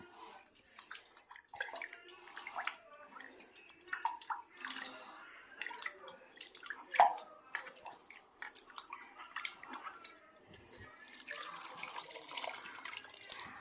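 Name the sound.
pouring tamarind water into pot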